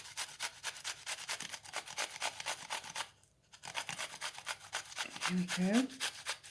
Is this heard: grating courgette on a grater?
yes